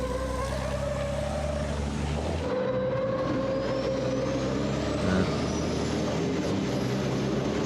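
Racing car braking hard into a hairpin at the Zolder circuit during 2021 qualifying, a loud, continuous engine roar with shifting pitch that carries the whole stretch, with no voices.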